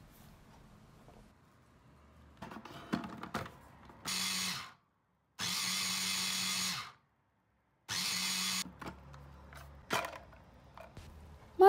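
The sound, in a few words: food processor chopping parsley, onion and garlic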